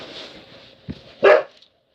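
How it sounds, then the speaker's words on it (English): A dog gives a couple of short barks close by, a softer yip followed by one louder, sharper bark, then silence. "What you barking at?"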